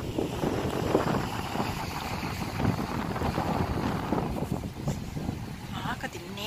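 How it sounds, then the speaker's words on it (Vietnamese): Cold wind blows on a street in a Vietnamese neighborhood of Chicago, buffeting the microphone with steady low rumbling gusts that stay loud and continuous throughout. "Lạnh quá, gió thổi lạnh."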